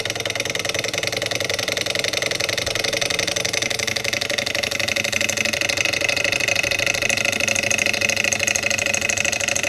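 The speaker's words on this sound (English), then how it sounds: "A small Stirling engine." A small Stirling engine generator kit running steadily, giving a continuous, fairly loud mechanical whir with a rapid, even ticking rhythm and no break.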